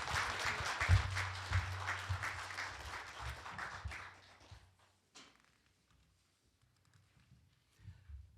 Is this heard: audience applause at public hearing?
yes